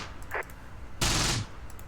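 Distant gunfire from an MG42 machine gun in the war game Close Combat, a short burst and a longer rapid rattle, faint and alone without speech.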